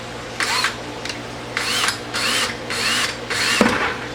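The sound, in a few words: power drill drilling holes in a plastic bucket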